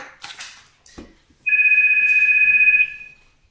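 A telephone rings indoors: one continuous electronic tone, loud and steady, lasting about a second and a half before it cuts off. It follows brief faint rustling and knocks, and no one talks over it.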